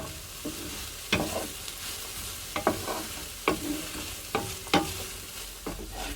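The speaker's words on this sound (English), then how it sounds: "we're just going to use our large pan here and start frying off the vegetables that I cut up before." Spring onion and red capsicum frying in a large pan, a steady sizzle punctuated by roughly eight sharp scrapes and clacks of stirring, close up, with no talking.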